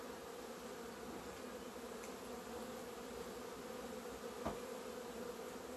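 A queenless honeybee colony hums inside an open hive in February: a steady, dense buzz of many bees that stays even throughout, close and unbroken, with one faint knock near the end and no talk.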